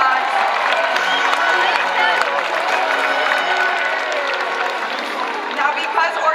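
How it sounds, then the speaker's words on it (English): Audience applauding and cheering in the stands at a SeaWorld San Diego orca show, a steady wash of crowd clapping and voices that holds for several seconds with background chatter mixed in. "Let's give him another round of applause"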